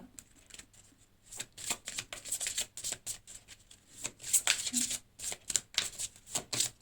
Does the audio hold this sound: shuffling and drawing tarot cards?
yes